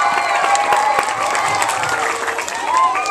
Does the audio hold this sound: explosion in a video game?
no